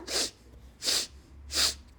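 Three loud, wet sniffs come close by at an even pace, each a sharp inward snort through a congested, runny nose from a cold.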